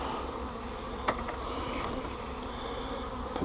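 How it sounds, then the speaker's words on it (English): Honey bees shaken off a nuc frame during a colony transfer swarm in a steady, close buzzing drone, with a couple of brief knocks over the continuous hum. "shake out all the bees I can, get them off of it"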